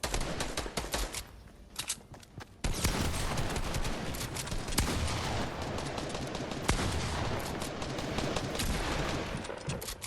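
Rapid bursts of automatic gunfire from a Fortnite Battle Royale match crackle almost continuously, loud and close, with a brief lull before the shooting resumes at full intensity.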